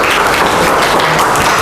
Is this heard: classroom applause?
yes